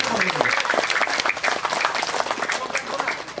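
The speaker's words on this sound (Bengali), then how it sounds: "নিজের জন্য একটা করতালি দাও" Audience applause rises at a family gathering event, a dense burst of hand clapping from many people that carries steadily for a few seconds without a break.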